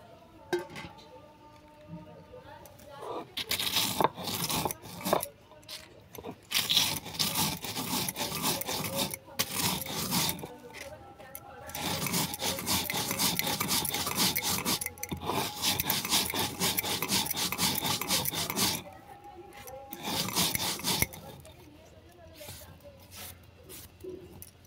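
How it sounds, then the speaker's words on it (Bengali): Fried lentil dumplings ground to a fine powder on a stone grinding slab, a rough rhythmic scraping and rubbing in long repeated bursts with short pauses between, close and fairly loud. "ততক্ষণ আমি যে বড়িগুলো ভেজে রেখেছিলাম ওইগুলো শিলবাটায় মিহি করে গুঁড়ো করে নিয়েছি"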